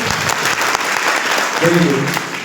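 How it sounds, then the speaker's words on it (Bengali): An audience at an MSME Tool Room session claps loudly and continuously, with brief voices rising near the end. "তোমরা নিজেদের জন্য আগে একটা জোরে হাততালি দাও সবাই, আরো জোরে, আরো জোরে।"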